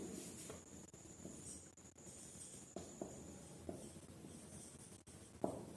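Faint scratchy strokes of writing on a board in a classroom, soft and intermittent, with a steady hiss and occasional light taps.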